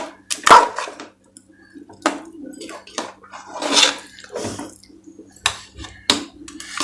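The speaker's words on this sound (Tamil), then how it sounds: "கட்டி சேரக்கூடாது, நம்ம கிளறிட்டே இருக்கணும்." A spoon scrapes and clanks against a pot as kesari is stirred, giving irregular bursts of scraping and knocking at close range, with a faint steady hum underneath.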